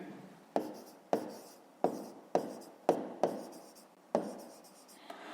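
Pen strokes on paper during a fifth-grade math exercise: about seven short, distinct scratching bursts, each starting sharply and trailing off, close and fairly quiet with no talking.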